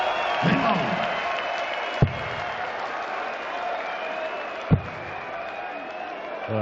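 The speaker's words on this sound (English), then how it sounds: "Well, for a 13-dart leg, Nico Blum, the crowd are on their feet" A darts crowd at the German Darts Open cheers and applauds in a steady, loud roar that fills the space, broken by two sharp thuds.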